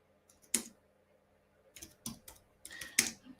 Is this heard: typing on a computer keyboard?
yes